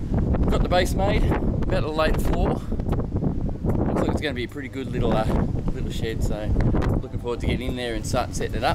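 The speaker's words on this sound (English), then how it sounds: "Windy out here, sorry about the wind" Gusty wind buffets the microphone with low rumbling bursts while someone talks continuously over it.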